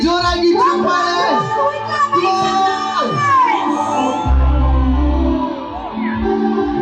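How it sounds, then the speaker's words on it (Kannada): An audience at a village fair stage show cheers and whoops for a Bigg Boss guest, the crowd noise rising under loud amplified music and an announcer's voice. "ಆಡಿಯನ್ಸ್ ಬಲ್ಲಿ ಜೋರಾಗಿ ಚಪ್ಪಾಳೆ."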